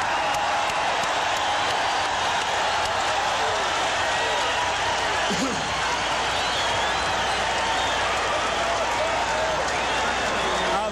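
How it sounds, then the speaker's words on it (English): Crowd roaring and cheering at a professional boxing match between Julio Cesar Chavez and Ruben Castillo, a dense, sustained wall of noise throughout with commentary voices mixed underneath. "Thunderous ovation from this crowd"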